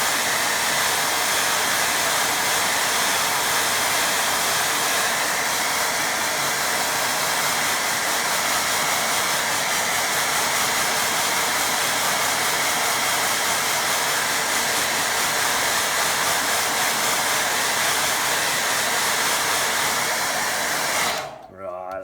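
A hair dryer blowing on wet watercolour paint, a loud steady whoosh that runs nonstop and cuts off abruptly at the end.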